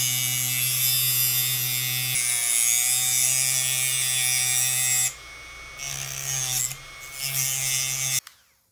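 A thin cutting wheel on a rotary tool slices through the plastic case of a Milwaukee M18 battery, a close high-pitched whine that runs steadily, then stutters and stops abruptly.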